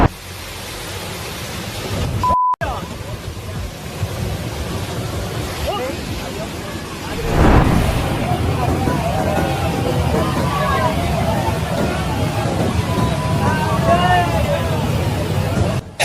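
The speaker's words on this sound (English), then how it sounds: "Heavy rains in Pakistan create a mesmerizing scene as floodwaters plunge into the ground" Heavy rain and floodwaters plunging into the ground in Pakistan make a loud, steady roar of rushing water, broadband and continuous, swelling a little louder partway through, with faint voices in the background.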